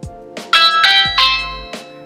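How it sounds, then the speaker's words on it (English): A loud, clear electronic chime from a Ring video doorbell rings out a short sequence of bright melodic tones, close up, with the notes ringing on and fading. "I press on my Ring doorbell"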